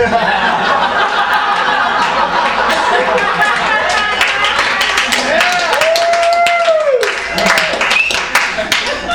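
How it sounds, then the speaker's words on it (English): A comedy club audience at the Ice House claps and chuckles, a ragged burst of applause mixed with laughter and murmuring, while a performer's voice cuts in over the crowd. "Give an applause for not having DUIs, that's good."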